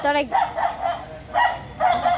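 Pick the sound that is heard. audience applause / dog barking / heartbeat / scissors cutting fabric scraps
dog barking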